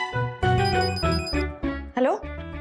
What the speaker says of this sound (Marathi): आला फोन आला.